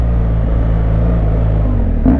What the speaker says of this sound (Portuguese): Essa aqui é minha nova motinha, novo brinquedo. BMW 1200 Adventure.